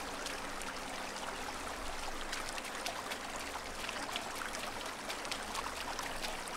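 Steady broadband rush of water as a character wades across a river in Sengoku Dynasty, continuous sloshing and trickling throughout at moderate level, with no voices.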